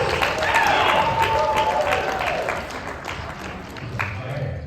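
An audience at a speech gathering claps for a guest being called up to the front, a moderately loud spread of applause that gradually thins, with a few voices and whoops over it.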